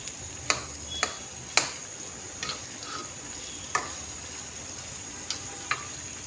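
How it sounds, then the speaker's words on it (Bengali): Fish curry with coriander leaves simmers quietly in a pan while a spoon taps and scrapes against the metal in several distinct knocks over a soft low sizzle, with no talking. "ধনে পাতা দিয়ে ভালোভাবে মিশিয়ে দিচ্ছি নাড়াচাড়া করে"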